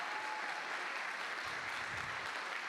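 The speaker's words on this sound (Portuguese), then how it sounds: "Eu queria que você aplaudisse todo o trabalho do departamento infantil." A church congregation applauds the children's department at a family service, dense steady clapping filling the room at an even level throughout.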